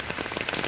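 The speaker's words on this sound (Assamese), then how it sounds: "আমাৰ কেৰেলাত এতিয়া বৰষুণ পৰি আছে" Rain falls in Kerala in a dense, even patter on hard surfaces. The brief, continuous hiss of drops is close by and plays alone, without any speech.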